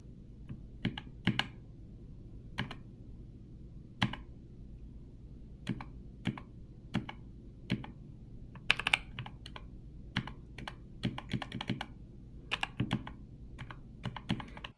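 Typing on a NuPhy Air75 v2 mechanical keyboard: quiet, close keystrokes arrive in scattered single clicks and short bursts, with brief pauses between them, over a low steady hum.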